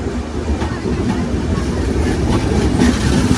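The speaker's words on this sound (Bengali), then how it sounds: "অনেক বড় এই ট্রেনটা তো ইতিমধ্যে চলে আসছে" The Madhumati Express, a long luxury intercity passenger train with Shovon chair coaches, rumbles loudly and steadily on its rails nearby, a dense low roar with faint rhythmic clatter throughout.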